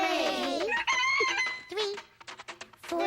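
Roosters in a children's cartoon crow loudly, one call overlapping the next, then break into quick clucks and a final crow.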